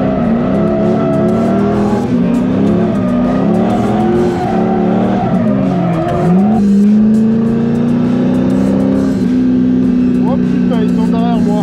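Drift car driven hard through a session at a large drift event in Spain, engine loud and close with revs rising and falling in quick sweeps, then settling into a sustained high drone with faint tire squeal.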